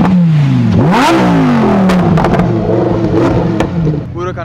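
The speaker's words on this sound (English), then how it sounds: "Let's do some revs." Lamborghini Huracan STO and Nissan Skyline R34 GT-R, the R34 with an aftermarket exhaust, revving loudly up close in repeated swelling and falling pulls, with voices over the engines.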